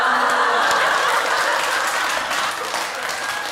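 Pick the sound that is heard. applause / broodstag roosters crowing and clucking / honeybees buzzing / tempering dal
applause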